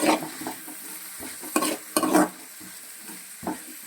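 Sliced green chili and vegetables stir-fried for hotel-style Schezwan fried rice, with quiet sizzling beneath repeated scraping and clattering strokes of a spatula in the pan, arriving in irregular bursts.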